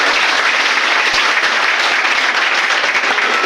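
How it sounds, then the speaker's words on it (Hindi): Loud, dense crowd applause at a poetry gathering in Sir Syed Hall, Ghazipur, a continuous roar of clapping from a large audience with no pauses. "इस बात के लिए जोरदार ताली बजाइए आप सारे।"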